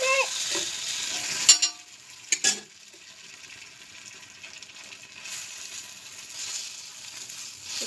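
Batter poured onto a hot pan sets off a soft, steady sizzle, with a couple of sharp utensil clinks early on before the frying settles into a faint, even hiss.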